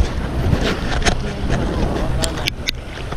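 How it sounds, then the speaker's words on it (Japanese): Strong wind blowing at the sea during shore jigging on a cold, rough day, heard as a loud, steady gusty rush against the microphone, with a voice speaking briefly. "ちょっと風強い。"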